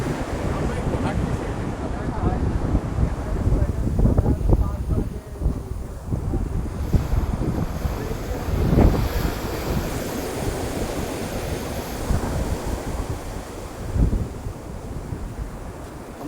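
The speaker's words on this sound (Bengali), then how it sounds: "আসলে সমুদ্র এক অসাধারণ সুন্দর প্লেস কক্সবাজার" Ocean surf rolls onto the beach at Cox's Bazar while wind buffets the microphone, a continuous rumbling wash with periodic swells and no clear voices.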